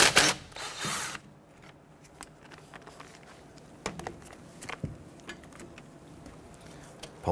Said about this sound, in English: 12mm socket, loosen and remove this bolt.